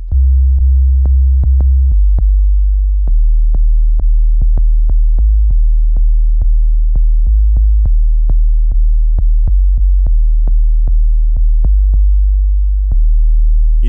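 Deep, booming sub kick drum hits repeat loudly in an irregular pattern, each a low thud with a short click, sustained tails blending between strikes.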